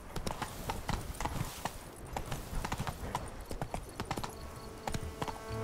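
In The Witcher 3: Wild Hunt, a horse gallops hard, its rapid hoof clatter loud and near, the rhythm running unbroken through the whole stretch.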